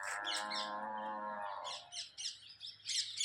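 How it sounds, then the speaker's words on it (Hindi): Cattle moo in a forest in Gokul, one long, close, droning low from a cow followed by birds chirping in the quiet background. "बहुत दूर तक गाय है।"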